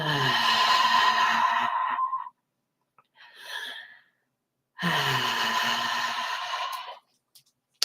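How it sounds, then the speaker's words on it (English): A long, deep inhale during a relaxation breathing exercise, followed by a brief softer breath and then another sustained, close breath of similar length, each fairly loud and airy, with no talking. "Inhale."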